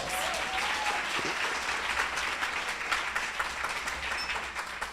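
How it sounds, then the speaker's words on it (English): A crowd at an Alpha Kappa Alpha sorority chapter's 40th anniversary celebration gives a sustained round of applause, a dense, even roar of clapping that runs the whole time without easing, with faint crowd noise beneath. "they deserve another round of applause"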